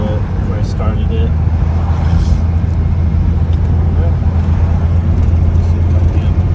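Steady low road rumble and engine drone from a Dacia Duster being driven, heard from inside the cabin as a constant, fairly loud hum with no clear gear changes.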